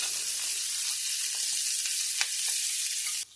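Food sizzles and fries in melted butter in a pan alongside steak, a loud steady crackling hiss with a few sharper pops before it cuts off abruptly.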